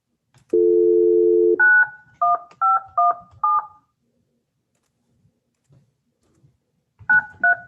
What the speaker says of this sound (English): let me make this phone call then